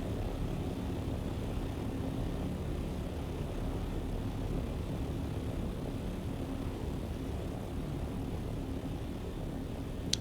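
Aircraft in the Dune Awakening game holds a constant low, rumbling engine drone in flight, steady and unbroken for the whole stretch with no voices.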